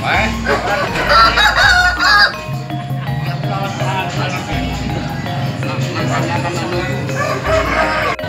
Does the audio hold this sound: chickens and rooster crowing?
yes